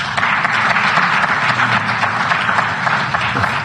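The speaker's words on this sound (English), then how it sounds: "I hadn't heard the applause at the end." A handful of people clap hard at the end of a political speech, a dense, loud, steady patter of close applause that keeps up without pause and with no voices over it.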